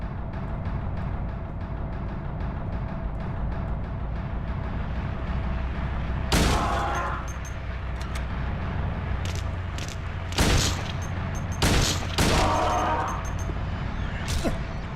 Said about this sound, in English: So yeah, we also have a shotgun.